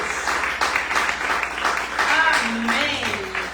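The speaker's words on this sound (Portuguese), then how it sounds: "De aplauso bem fuerte para Jesus." Church congregation applauding during a Wednesday service, a steady wash of hand claps with a voice speaking over it.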